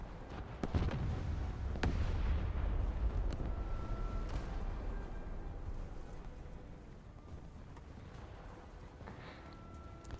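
Missiles launch from US coastal vessels in a naval combat video game, a loud rumbling whoosh with bursts and sharp cracks early on, fading into a sustained roar over the rest of the clip.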